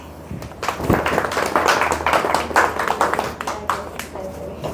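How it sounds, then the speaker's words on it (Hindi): A small offline sewing-class audience claps together for a moment, a dense patter of hand claps over room noise with voices talking amid it. "अगर आपको तरीका समझ में आया है या पसंद आया है तो एक बार तालियां मारो"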